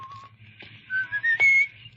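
A man whistles a short, casual tune of a few bright notes in an old-time radio drama, fairly close, over a low background hum.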